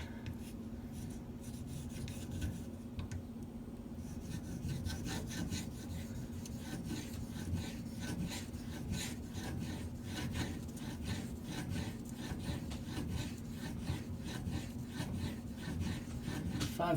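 A knife blade is drawn steadily across a 5000 grit whetstone, producing a continuous soft scraping and rasping with rhythmic strokes, close up and fairly quiet throughout.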